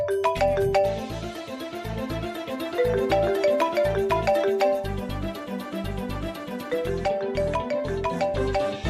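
Mobile phone ringtone playing a repeating melodic tune with a steady beat, loud and continuous, with no talking over it.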